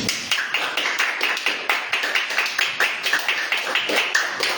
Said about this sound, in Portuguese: pode dar uma salva de palmas para o Senhor Jesus